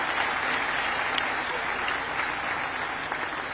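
A crowd at a college women's function applauds loudly and evenly in a dense, unbroken roar of many hands, with no pause from start to finish.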